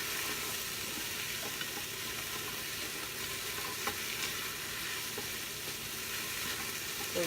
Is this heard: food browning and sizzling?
yes